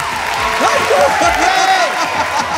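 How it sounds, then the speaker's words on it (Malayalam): An audience on a Malayalam TV game show applauds a young boy named Aryan, a short burst of loud, close clapping mixed with a host's voice and a little laughter. "ആര്യന് കൈയടി"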